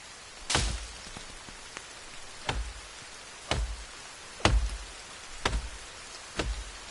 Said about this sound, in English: Rain ain't gonna stop me.